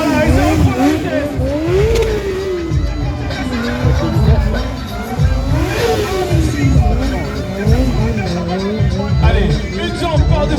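Stunt motorcycle engine revving up and down repeatedly, a loud close rising and falling whine as the throttle is worked, with someone talking over it.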